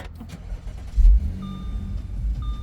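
The 350-horsepower 3.0 V6 petrol engine of a 2014 Audi SQ5 cranks and catches with a low thump, then settles into a steady idle rumble with a faint electronic beep tone above it.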